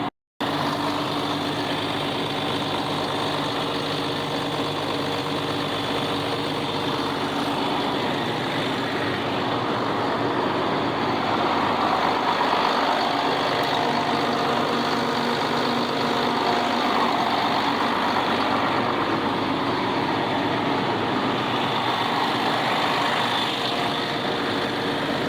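A heavy tractor engine idles in a low, steady rumble that continues unchanged for a long stretch with no talking.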